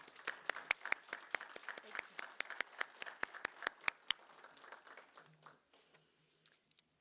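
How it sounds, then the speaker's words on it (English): Round of applause for guest speakers at a university graduation ceremony: distinct, sparse claps from a small audience, fairly quiet and roomy, thinning out and fading near the end. "please join me in providing a round of applause for these guest speakers"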